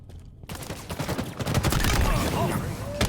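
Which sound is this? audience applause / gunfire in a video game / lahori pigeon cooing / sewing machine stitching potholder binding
gunfire in a video game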